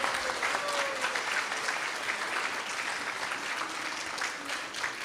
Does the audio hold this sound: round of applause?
yes